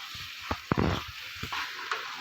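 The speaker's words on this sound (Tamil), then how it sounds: "கொஞ்ச நேரம் அப்படியே கிளறி விடலாம், நல்லா அந்த மசாலாலாம் பிடிக்கிற அளவுக்கு" Chicken stirred into masala in a hot pan, a steady sizzling hiss broken by several sharp scrapes and clacks of the spoon against the pan, close and fairly loud.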